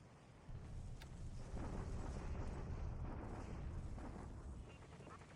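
Deep, rumbling naval bombardment explosions in War in the Pacific roll on continuously, a dense low roar heard at moderate distance with no talk over it.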